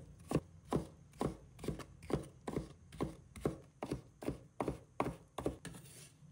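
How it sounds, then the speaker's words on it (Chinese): Knife chopping cucumber slices into thin strips on a cutting board, a steady run of about fifteen crisp, evenly spaced cuts, close and clear with no talk. "随后将这些薄片改刀切成细丝。"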